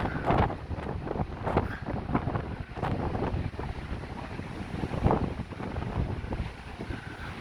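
Strong wind gusts along the Blackpool seafront promenade, a steady roaring rumble that buffets the microphone with uneven surges and no voices.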